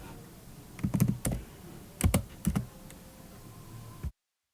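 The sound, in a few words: computer keyboard typing while writing JavaScript code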